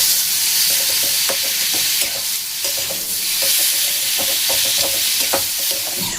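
Potatoes frying in a wok with a little salt and sugar, a loud continuous sizzle broken by rhythmic scraping and stirring knocks of a spatula, close and without talk.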